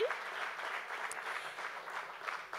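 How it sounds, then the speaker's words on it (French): Audience applause at a university gala, a steady, fairly faint wash of clapping that holds evenly throughout. "Bonne main d'applaudissements, s'il vous plaît."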